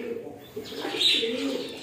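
Pigeons cooing up close in a home loft where they are nesting, a soft throaty coo swelling over faint background noise, with a brief higher chirp mixed in.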